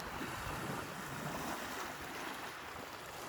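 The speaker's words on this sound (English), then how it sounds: "You can probably hear the waves crashing against the shore." Waves breaking against the rocky shore of Isle Royale near Tobin Harbor, a soft, distant continuous wash mixed with gusting wind across the microphone, no talking.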